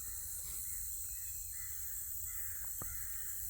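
Distant crows caw a few times over a constant high hiss of insects and outdoor ambience; faint and far off, with no voices.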